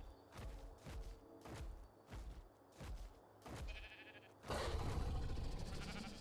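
Sheep bleat repeatedly in a steady rhythm in the game ARK Survival Ascended on PS5, on the Aberration map, with several close, short calls and then a louder burst of bleating near the end.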